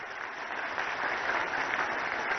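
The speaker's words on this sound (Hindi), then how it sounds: "अरे बजाओ ताली" An audience at a public gathering in the Gwalior Chambal region applauds, a steady wash of many hands clapping at a moderate distance, continuous and even throughout.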